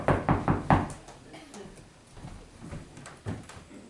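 Several sharp knocks on a door in quick succession open the sequence, followed by quieter room sounds and a single later knock, fairly close and distinct.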